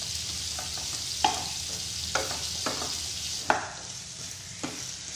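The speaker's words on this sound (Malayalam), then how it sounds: "ഈ പാവയ്ക്ക അരിഞ്ഞത് നല്ലപോലെ ഇതിൽ കിടന്നിട്ട് ഒന്ന് സോഫ്റ്റായിട്ട് എടുക്കണം." Chopped bitter gourd sizzles steadily in a pan while a spoon stirs it, with several distinct scrapes and clacks against the pan standing out over the continuous frying hiss.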